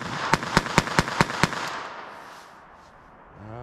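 Six sharp gunshots from a .22 LR pocket pistol fire in quick, fairly even succession at close range, each a loud crack, then the sound dies away into quiet outdoor air.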